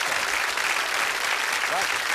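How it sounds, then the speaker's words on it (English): Studio audience of a magic television show applauding two volunteers, loud and dense clapping from a large crowd throughout, with a brief voice surfacing near the end. "Round of applause for two very good volunteers."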